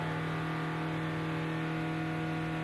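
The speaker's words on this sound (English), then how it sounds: "I need to rev the engine flat out and hold it there until the blue light goes out." A diesel engine is held revved flat out during an exhaust smoke test, giving a steady, sustained droning roar with a constant hum and no change in pitch, close and loud with no speech.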